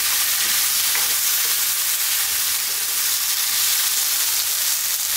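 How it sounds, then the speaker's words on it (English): Potato curry frying over high heat and being stirred constantly, producing a loud, dense, unbroken hiss of sizzling with no voices. "maybe 2 minutes on this high heat. Stirring pretty much all the time"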